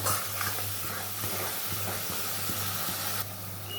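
Spice paste sautéing in oil in a Bengali jackfruit, prawn and potato curry gives a soft, steady sizzle with faint stirring scrapes, quiet and continuous with no voices.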